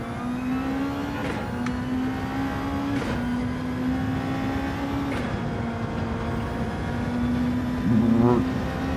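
A race car engine in Gran Turismo 7 holds a loud, steady drone through a lobby race, with several sharp gear shifts dropping and rising the pitch and a brief burst of revving near the end.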